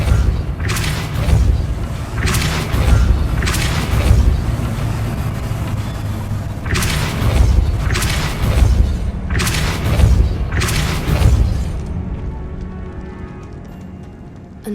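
Repeated Depulso force spells fire off in Hogwarts Legacy, a string of deep booming blasts with whooshing bursts arriving in clusters over a low rumbling game backdrop, no talk over them.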